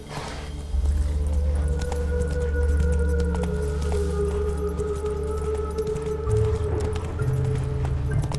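Rhythmic hoofbeats of a horse galloping in The Witcher 3: Wild Hunt, a steady close clip-clop pattern with faint jingling of tack running throughout.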